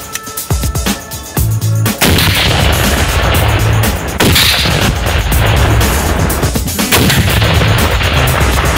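Loud RPG-7 grenade launcher fire and grenade blasts on a military range: a sharp boom near the start, then sustained heavy rumbling explosions and roar, with no talk.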